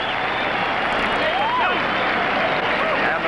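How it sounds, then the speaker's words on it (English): Boxing crowd applauding at the final bell of a heavyweight fight, a dense wash of clapping and cheering heard under a commentator's steady talk. "And the crowd is on its feet applauding."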